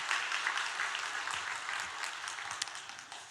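A church congregation claps together in sustained, dense applause during a Sunday service that stays loud throughout, with no talking heard.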